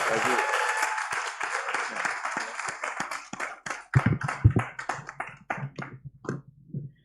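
Audience applause at a green biotech showcase event starts as a thick, continuous wash, then thins into scattered individual claps that fade out, with talking heard among the clapping.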